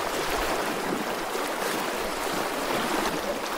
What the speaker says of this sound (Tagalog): Lakas ng agos.